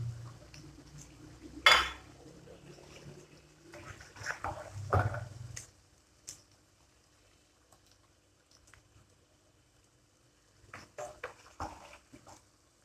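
Cooked green chicken karahi is served out of the pan, bringing a few sharp metallic clinks of a spoon against the cookware, then softer scraping and tapping in a quiet kitchen, with a later burst of light clatter.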